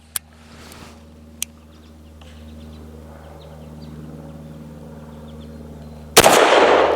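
Sharp pistol shots from a Tisas 1911 Duty B9R 9mm firing Hornady American Gunner 124 grain rounds: two crisp cracks early, then a loud blast near the end over a low steady hum.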